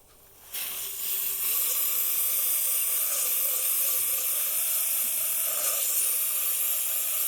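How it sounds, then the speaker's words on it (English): A steady, close hiss of water spraying from a hose nozzle onto an irrigation system disc filter, starting abruptly and continuing without a break. "So just get like a very tight spray and spray it like this."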